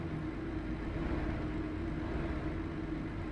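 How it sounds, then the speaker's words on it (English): A Renault truck engine in Euro Truck Simulator 2, heard from inside the cab as a steady, low droning hum at moderate volume with no voices over it. "the engine sounds horrible in the cab"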